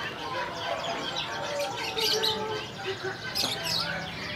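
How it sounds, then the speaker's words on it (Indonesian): Hundreds of caged songbirds, including canaries, ciblek and other finches, chirp and tweet continuously at a bird shop, a dense overlapping chorus of calls with a voice faintly underneath. "Untuk hari ini stok burung ratusan ekor ya."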